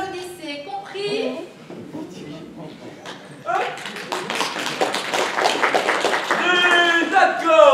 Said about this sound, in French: quand je fais ça, vous applaudissez